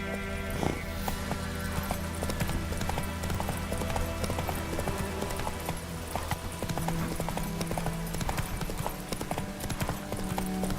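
Roach the horse galloping in The Witcher 3, hooves clip-clopping in a quick, steady rhythm throughout, with a brief whinny-like sound early on and music playing underneath.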